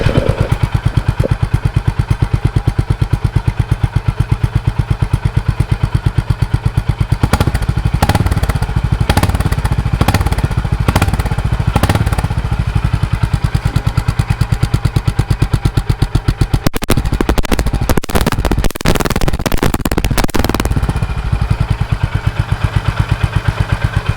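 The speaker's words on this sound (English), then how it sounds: "that was the amazing thumpy exhaust note of" A Honda CB 350 Highness motorcycle started and idling, its thumpy single-cylinder exhaust note a steady, loud, close pulse with a few sharper throttle blips partway through, no talking.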